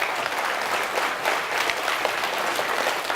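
A hall of taekwondo instructors at a training lecture claps together, producing loud, sustained, fairly even applause close by with no talking over it.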